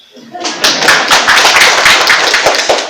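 An audience at an Islamic college ceremony in Sukabumi breaks into clapping after a short quiet start, a near, fairly loud burst of hand claps holding steady to the end.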